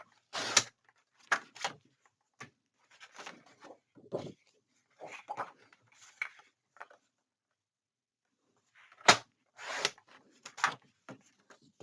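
Paper album supplies for a craft project are cut with several short, sharp snips and rustles, some of them loud, spread through otherwise silent pauses.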